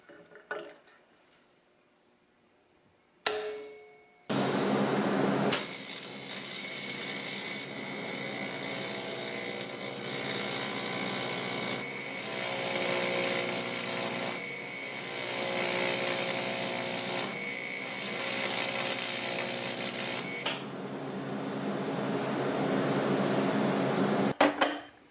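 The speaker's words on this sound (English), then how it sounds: "I'll just reuse one of the existing spacers and weld it right on." Welding a reused spacer on as a bracket for the HVAC on a 1976 Mazda RX-5 Cosmo under restoration: a steady, loud crackling buzz runs for about sixteen seconds after a sharp click, then stops abruptly.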